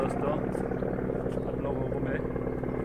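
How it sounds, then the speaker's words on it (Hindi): A helicopter flies close by near the Itanagar gompa in Arunachal Pradesh, its steady, continuous rotor drone filling the background while someone talks over it. "आसपास पे तो काफ़ी हेलीकॉप्टर का नॉइज़ दे रहा है"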